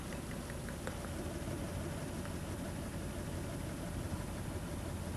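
A car engine idles roughly during a cylinder check, a steady low rumble with faint ticking near the start and no voices.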